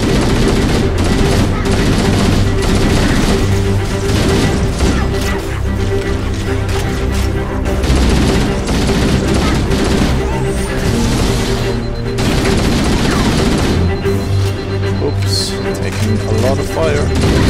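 Heavy automatic gunfire and explosions in Halo: Combat Evolved Anniversary, dense rapid bursts rattling almost nonstop at full loudness, with a voice talking over the battle.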